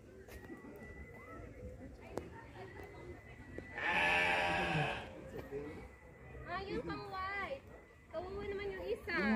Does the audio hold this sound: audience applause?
no